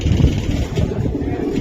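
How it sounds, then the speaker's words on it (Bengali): A pure-blooded silver pigeon at a pigeon sale gives a low, muffled coo close up, a short rumbling call against faint background noise. "এটা আমার একদম র ব্লাডের একটা সিলভার কবুতর।"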